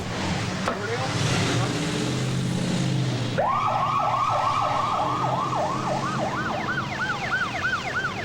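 An ambulance siren wails on the way to an emergency scene, starting with a blurred passing tone and then settling into a loud, rapidly repeating whoop over traffic noise, with a voice briefly audible.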